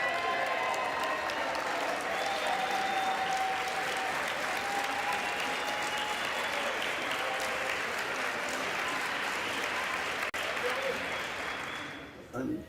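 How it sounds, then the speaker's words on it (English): Steady, dense applause fills the House chamber during the vote for Speaker, a sustained wash of clapping from a large crowd heard at a distance that fades out at the end. "applause for voting for himself"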